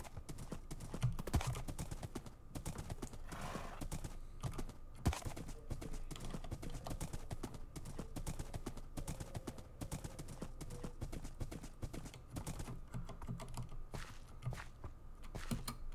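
Steady clip-clopping of a horse's hooves in the Minecraft video game, a regular walking rhythm running throughout at moderate volume, with a few thunks and faint game background sounds and no speech.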